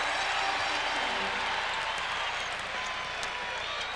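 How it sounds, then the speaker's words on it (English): An arena crowd at a Chicago Bulls vs New York Knicks NBA game roars and applauds after a Larry Johnson basket, a dense, steady wash of cheering and clapping that holds for several seconds. "Crowd responding with Johnson's bucket"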